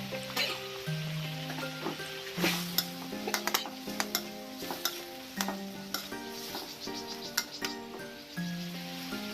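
Squid stir-fried with holy basil sizzles steadily in a pan, with repeated sharp clinks of a spatula scraping and stirring against the metal, close and fairly loud, while a tonal melody plays throughout; no talking.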